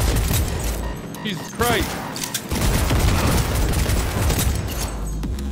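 Enemy smart gun fire in Cyberpunk 2077 comes in rapid bursts and booms with mechanical clatter, loud and close, broken by a short lull, while a player's voice exclaims over it.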